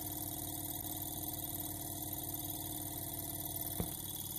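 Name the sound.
vintage telephone ringtone oscillator buzzing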